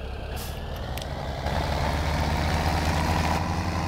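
A heavy farm vehicle's engine in Farming Simulator 17 turns over and settles into a steady, loud low rumble, with a couple of brief higher clicks and hisses near the start.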